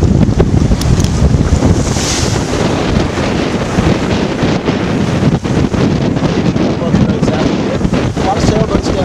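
Sailboat moving fast at six to seven knots through rough water in the Exumas, with steady loud wind buffeting the microphone and continuous rushing water and surf noise throughout.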